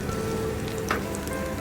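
Salmon frying in a pan with steady, fine sizzling crackle throughout and a brief sharper spatter near the middle, close and moderately loud.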